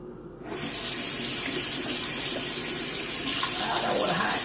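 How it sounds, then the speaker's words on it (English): Hands being washed under a running tap, a steady loud gush of water that starts abruptly after a brief quiet moment and continues close by for the rest of the clip. "Wash my hands."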